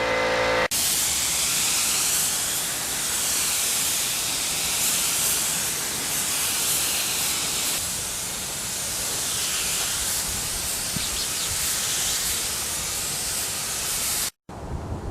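Spray painting silver coats onto Kawasaki H1 motorcycle parts makes a continuous loud hiss of aerosol spray, close and steady, swelling slightly in waves and cutting off abruptly near the end.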